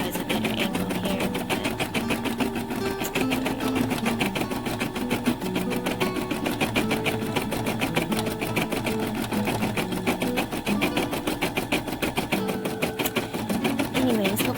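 An embroidery machine stitches an in-the-hoop snap tab keychain, a steady, fast mechanical chatter running continuously at close range with a constant level and music or talk mixed underneath.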